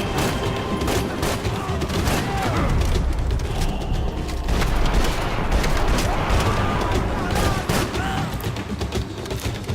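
Gunfire from the shooter game Max Payne 3: continuous, dense shots and booms mixed with a busy game soundtrack throughout, loud and steady with no pauses.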